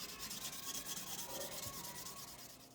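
Fine 600-grit sandpaper is rubbed over a metal signet ring in a jewelry workshop, making a steady, close, rapid back-and-forth scratching that continues without a break.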